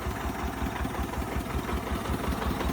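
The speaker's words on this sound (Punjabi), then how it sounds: "ਐਦਾਂ ਸਟਾਰਟ ਹੁੰਦਾ ਦੇਖੋ ਇੰਜਣ ਇਹਦਾ" A single-cylinder DT 14 tractor engine runs with a steady, low, pulsing chug close by, holding an even idle throughout with no voices.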